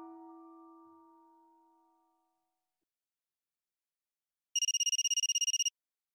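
A telephone rings in a Japanese horror audio drama, one short burst of rapid electronic trilling that follows a fading chime-like tone and a pause of silence, clear and isolated with no talking.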